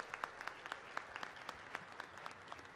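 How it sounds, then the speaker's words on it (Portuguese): Scattered clapping from a small group at a solemn session of a state legislative assembly: distinct, fairly quiet, with sharp individual claps in a loose rhythm rather than a full roar. "a quem eu peço uma salva de palmas para ela"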